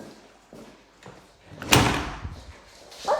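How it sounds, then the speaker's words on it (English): A door in a house is pushed shut with a single firm slam partway through, preceded and followed by softer knocks and thuds nearby. "Let's close my door"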